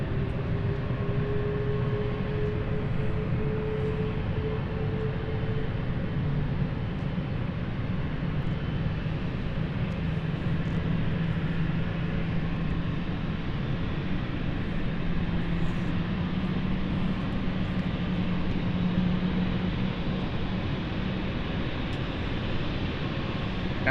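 An aircraft at London City Airport, landing lights on and ready for departure, with a long, steady engine hum and rumble at some distance, unchanging throughout.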